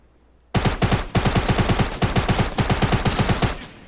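Gunfire in the game Fortnite: a loud, sudden burst of rapid automatic shots, a stream of sharp cracks that briefly pauses near the middle before resuming and easing off.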